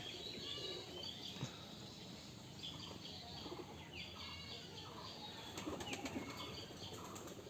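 Giribaj pigeons on a pigeon farm fly in one by one after rain, with repeated bursts of flapping wings, soft coos and chirps at a low, fairly distant level throughout.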